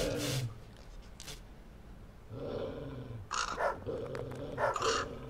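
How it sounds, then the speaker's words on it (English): A killer dog growling in the horror video game Ministry of Broadcast, with low snarls and a few harsher growl bursts over a dark ambient game soundtrack. "And there's a killer dog."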